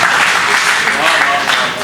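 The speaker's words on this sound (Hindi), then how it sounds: "एक बार ताली बजाओ, बात अच्छी लग रही हो तो" Audience at a Holi comedy show applauds, a steady, dense wash of clapping with crowd noise throughout, moderately loud and close.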